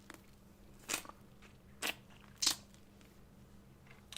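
Three distinct, crisp bites and chews of gum spaced about a second apart, close to the microphone in a quiet room with no talking.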